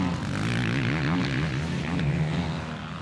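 Dirt bikes racing, one a Yamaha two-stroke, a loud continuous buzzing engine whine that rises and falls in pitch as the bikes rev past, close and unbroken.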